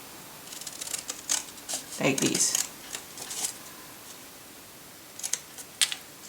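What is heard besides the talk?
scissors cutting paper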